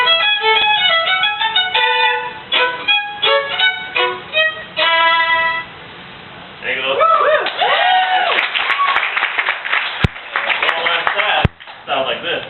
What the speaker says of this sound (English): Sound production on the violin